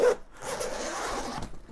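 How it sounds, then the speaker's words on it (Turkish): The zipper of a Spigen New Coated 2 Plus 15-inch water-resistant laptop backpack is pulled open in one steady, close rasp that lasts over a second, quiet and heard alone. "Çift fermuarlı bu arada bilginiz olsun. Şöyle iki tane fermuar mevcut."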